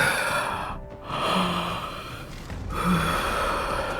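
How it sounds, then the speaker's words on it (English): A female character in the video game Nikke gives a soft, breathy yawn, a quiet drawn-out exhale with a faint catch partway through. "Almost sounds like she's yawning."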